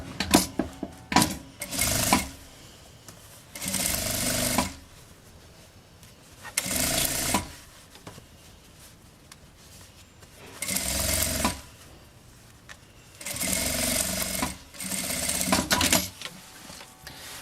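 Sewing machine stitching a backpack lining onto a zipper, running in five separate bursts of rapid mechanical whirring with quiet pauses and small handling clicks between them.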